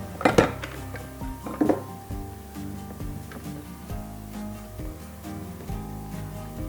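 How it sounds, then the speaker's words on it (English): A mixer paddle coated in cake batter is scraped down, with two sharp metallic clanks against the bowl early on, followed by softer scraping and knocks of utensil on metal. "Just scrape down this paddle to get as much off as we can."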